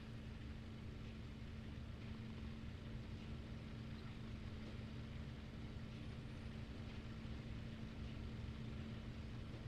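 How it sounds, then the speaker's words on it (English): Steady low rumble from a failing P-51 aircraft engine in the DCS flight game, continuous and fairly loud across the whole stretch, with a droning tone underneath and no voices. "you can hear that rumble. That this engine's got a few seconds left"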